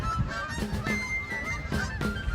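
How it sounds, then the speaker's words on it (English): Geese honk in a spring outdoor setting, three or four loud nasal calls spaced about half a second apart, close by with no talk. "The geese were moving on"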